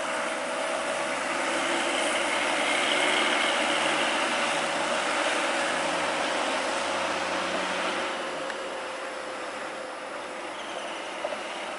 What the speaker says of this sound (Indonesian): Seperti ini bus pariwisata.